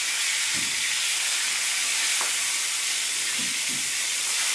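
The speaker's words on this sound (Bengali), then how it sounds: "এখন মাছগুলো ভেজে নিচ্ছি" Pangas fish pieces frying in hot oil, a steady loud hiss and sizzle running throughout with a few faint clinks and knocks from the pan.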